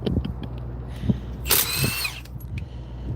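A power tool whirs in a brief high-pitched burst of about half a second during front rotor and brake replacement on a car, over a constant low mechanical hum and scattered clatter.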